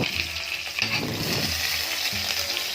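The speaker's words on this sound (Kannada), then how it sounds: "ಆಯಿಲ್ನಲ್ಲಿ ಫ್ರೈ ಮಾಡ್ತಾಯಿದ್ದೀನಿ ಬದನೆಕಾಯಿನ ನೋಡಿ" Eggplant fries in hot oil with a close, steady sizzle and bubbling crackle, broken by a couple of brief stirring movements.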